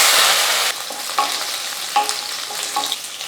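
Mustard seeds, garlic, shallots and curry leaves fry in hot oil for tiffin sambar, a loud burst of sizzle that drops into steady crackling with a few spoon stirs.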